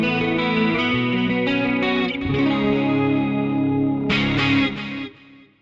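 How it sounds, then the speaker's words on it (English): An electric guitar runs through an FM3 factory preset called Andy's Message, which carries a lush chorus effect. Strummed chords and single notes shimmer and swirl up close, then fade out at the end, with no voices. "That is a really nice chorus"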